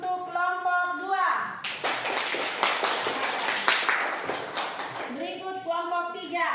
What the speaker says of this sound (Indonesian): Baik, kita berikan aplaus untuk kelompok 2.